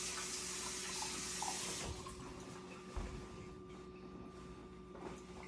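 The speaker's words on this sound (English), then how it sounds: "let me wash my hands off" Tap water runs steadily into a sink during handwashing in a home kitchen while making timpano, loud and broadband for about two seconds, then easing off into quieter splashes and a couple of low thumps.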